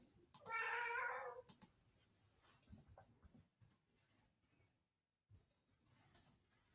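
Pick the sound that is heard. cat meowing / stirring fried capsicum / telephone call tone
cat meowing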